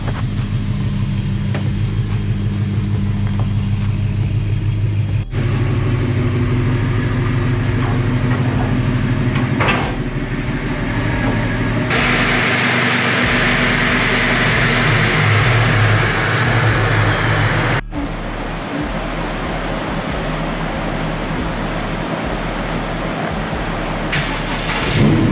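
A supercharged Gen 3 Coyote V8 with a 2015-and-up Mustang supercharger kit drones and shifts through varying pitches, loud and close, with abrupt changes in tone over a long run.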